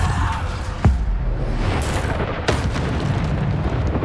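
In the video game Hogwarts Legacy, two Bombarda explosion spells go off with deep booming blasts about a second and a half apart, over a constant rumbling game background.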